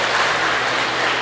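A church congregation claps together in a steady, dense wash of applause during a sermon, sustained and even across the short moment with no voices standing out.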